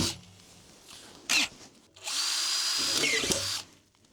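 A handheld power drill with a 10 mm bit whines into material in short bursts, first a brief spin and then a longer sustained run, close and fairly loud with faint rustling between.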